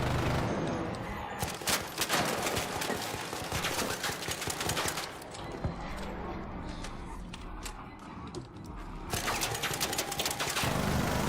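Dense, sustained gunfire from an Arc Raiders firefight, with rapid shots and bursts running almost continuously, briefly thinning in the middle before heavy fire resumes.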